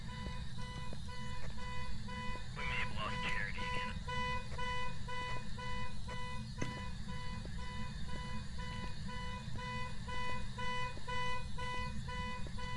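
Car alarm inside the Phasmophobia video game, a continuous steady electronic tone with layered harmonic beeping that repeats evenly for the whole stretch, moderately loud and unbroken.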